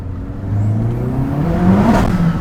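A 360-horsepower Renault Megane RS race car with a race clutch, set to sport mode, revs its engine close by, the tone climbing and swelling in a rising whir before holding high.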